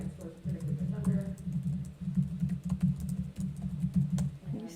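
Computer keyboard typing goes on as a steady patter of key clicks throughout, close and moderately loud, with a person speaking over part of it.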